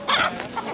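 Chickens cluck briefly at a rural village market on the Jamuna riverbank, a short burst of fowl calls over a faint crowd murmur.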